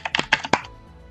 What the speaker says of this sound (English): Let me type up in here.